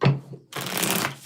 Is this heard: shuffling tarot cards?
yes